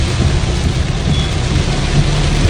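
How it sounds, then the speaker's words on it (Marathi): Heavy May downpour heard from inside a car on a road journey, a loud, dense and continuous roar of rain drumming on the vehicle with no voices over it. "एवढा पाऊस मे महिन्यामध्ये म्हणजे पहिल्यांदा बघतो आपण"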